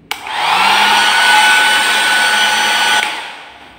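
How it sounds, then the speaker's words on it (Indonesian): A public restroom hair dryer in a capsule hotel roars on loud and steady for about three seconds before it cuts off, with a whooshing airflow and motor whine and no talking. "Hair dryer ini nyala nih pasti."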